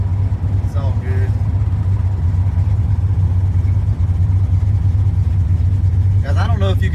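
Inside a Foxbody Mustang nicknamed the Grey Ghost on its first drive, a steady low engine drone fills the cabin with no rattles, while brief voices come through near the start and end.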